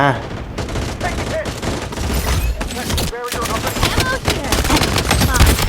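Bursts of gunfire from an online shooter game with an M700 sniper rifle skin fill the scene, rapid loud volleys cracking one after another while someone talks over them.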